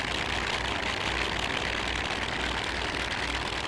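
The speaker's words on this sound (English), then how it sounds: "Whole airframe is shaking from the engine." A propeller aircraft engine in Microsoft Flight Simulator idles steadily with a dense, throbbing roar, loud and close, unchanging throughout.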